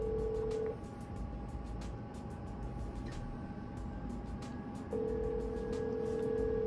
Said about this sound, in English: And we're dialing.